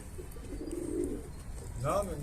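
A pigeon coos softly at close range in a short, low burst, with a brief faint chirp near the end over steady background hiss.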